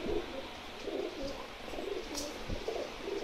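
A Kasuri cross Teddy pigeon coos in a soft rhythmic series of low, rounded calls, repeating close by over a faint background hiss.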